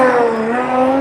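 A BMW E46 drift car holds a loud, steady engine drone at constant revs while warming its tires at a drift practice session, with no pause across the moment.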